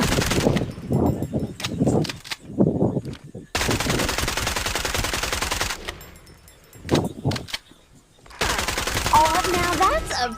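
Rapid automatic gunfire rattles in the video game Farlight 84, in long, loud bursts separated by short pauses. It is layered over a game music drum beat, and the final burst adds sharper electronic effects.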